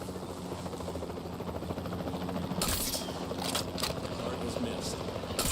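Capture team helicopter in Jurassic World Evolution 3, a steady rotor and engine drone throughout, joined midway by sharper bursts of higher hiss and clatter.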